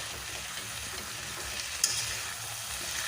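Spice masala with cumin powder being sautéed and stirred in a pan for a rohu fish and green banana curry, a steady soft sizzle with scraping strokes and one brief sharper clink near the end.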